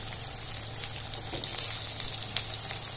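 Stuffed capsicum (shimla mirch) pieces in a pan over a medium flame, giving a soft, steady sizzle and faint crackle throughout, fairly quiet and close with no voices.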